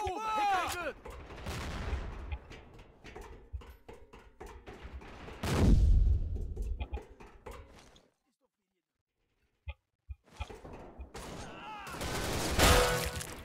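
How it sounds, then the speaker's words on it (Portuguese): Gunfire and a heavy blast from a grenade thrown in the online shooter Line of Sight, loud and close, then a brief silence with a few thuds before more bursts of shooting; someone talks over the game sounds. "Vou jogar uma granada ali."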